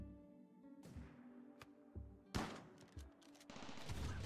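Autocannon turrets in the video game Rimworld fire a volley of rapid, loud bursts of gunfire, overlapping blasts cracking out in quick succession with no talking.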